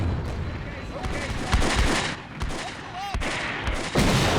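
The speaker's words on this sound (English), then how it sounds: "The artillery started falling in the right flank." Artillery shells land on the right flank in the Combat Mission wargame, a dense, continuous barrage of booms and crackling blasts rolling close together, loud and without pause.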